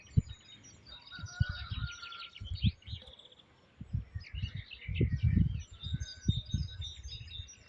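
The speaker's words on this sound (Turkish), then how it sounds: "kuş sesleri cıvıl cıvıl köyde yaşam" Small birds chirp and twitter in short bursts outdoors in a village, with soft rustling and low thumps in between.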